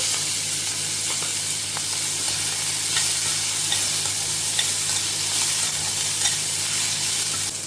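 Drumstick flowers sizzle in a pan alongside spluttering mustard seeds, a steady close hiss with scattered sharp pops and crackles bursting through it and a low hum beneath.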